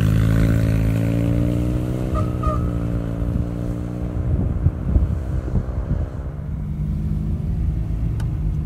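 A Humber Sceptre car engine idles with a low harmonic hum, then the revs rise and rumble as it pulls away in drive, with some wind buffeting the microphone; no voices.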